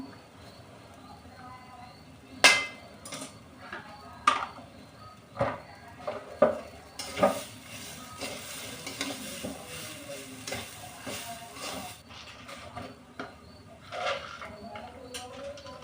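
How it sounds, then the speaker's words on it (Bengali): Curry fries with chili paste in a pan, with a spatula knocking and scraping in irregular strokes over a soft sizzle that swells into a stronger hiss midway, all heard close. "ঝালের জন্য আমি লঙ্কা বাটা ইউজ করলাম"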